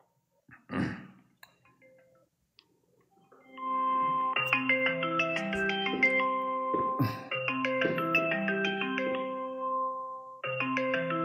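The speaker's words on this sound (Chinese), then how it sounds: "那我现在就给小小打电话，请他去吃夜宵。" A mobile phone plays a melodic ringback tone while an outgoing call connects, repeating tonal phrases clearly and fairly close after a few soft taps and handling noises, with no speech.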